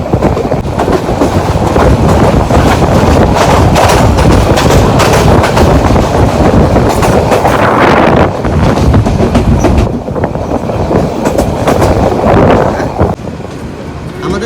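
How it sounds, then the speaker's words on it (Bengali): A passenger train rolls past Dirashram railway station in Bangladesh, a loud, continuous close-up rumble with rhythmic wheel clatter that holds steady for the whole stretch before easing slightly near the end. "অল্প কিছুক্ষণ পর আমাদের ট্রেন দিরাশ্রম রেলওয়ে স্টেশন অতিক্রম করবে"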